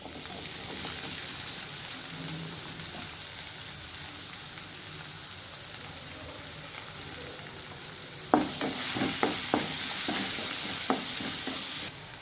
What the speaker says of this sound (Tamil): இப்போது வெங்காயம் வந்து ஓரளவு வதங்கிடுச்சு